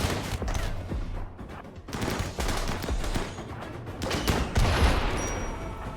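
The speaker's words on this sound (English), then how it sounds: "Incendiary launcher" Incendiary launcher fire in a sci-fi survival video game sounds as a rapid, dense run of sharp bursts and booms. The blasts cluster in uneven volleys, loud and close, with a short lull before the firing picks up again.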